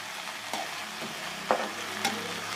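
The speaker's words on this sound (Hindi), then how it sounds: "प्याज को चार पाँच मिनट हल्की सी आंच पर फ्राई किया है" Chopped fresh spring onions frying gently over a low flame, a soft continuous sizzle with three sharp spatula taps against the pan spaced across the short stretch.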